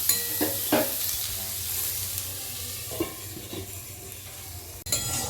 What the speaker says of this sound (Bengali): পেঁয়াজটা দিয়েও কিন্তু এই কাঁকড়ের সাথে এবার গ্যাসের ফ্লেমটা একটু আস্তে দিয়ে একটু ভেজে নেব